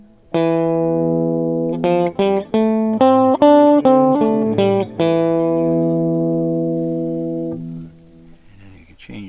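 Guitar notes played through a Meris LVX modular delay with the mix turned up: a quick run of plucked, sustained tones followed by a long ringing tail that slowly fades, loud and close, with no talking.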